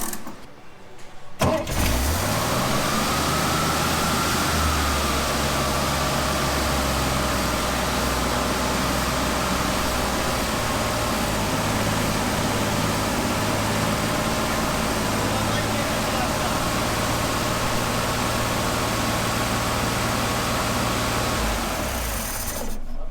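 A Chevrolet Corvair engine idles fast and steady just after its throttle linkage was reset, a loud, continuous even drone that settles in after a brief start and runs alone, close to the car, with no voices.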